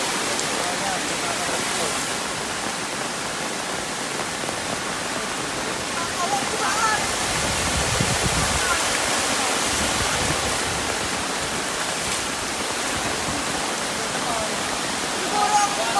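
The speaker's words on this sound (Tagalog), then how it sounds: "malakas yung dating ng tubig" Strong floodwater rushes steadily during Typhoon Kristine, a loud unbroken roar like a torrent or heavy rain that fills the whole stretch, with a voice faintly under it.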